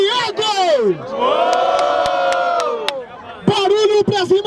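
Crowd at a street rap battle roaring and cheering in a vote for one MC's rhymes, a loud sustained chorus of shouts and whoops after a host's call, with voices close by.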